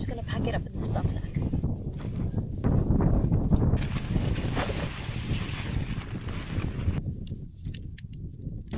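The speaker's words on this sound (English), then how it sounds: "The wind has definitely picked up" Strong wind gusting in the Olympic mountains, roaring and buffeting loudly against the microphone and swelling and easing over several seconds.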